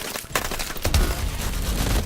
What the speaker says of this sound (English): Here's my laser gun